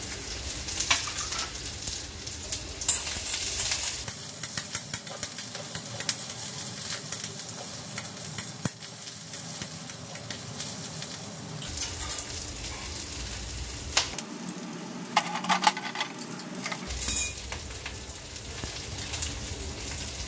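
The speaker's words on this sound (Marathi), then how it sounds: "मी कढईत तेल टाकलंय, तेल तापलंय, त्यामध्ये घालूया कांदा" Chopped onion fries in hot oil in a wok, giving a constant bright sizzle with stirring scrapes and brief quieter pauses, heard up close and without voices.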